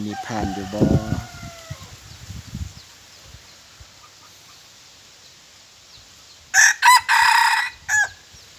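A rooster crows loudly nearby in a few strong bursts after a stretch of quieter clucking and low rustling.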